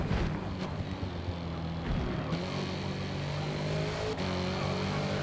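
HSV GTS in a racing game, its engine droning and revving with gear changes down into first and back to second, a steady mid-level motor hum with wind noise.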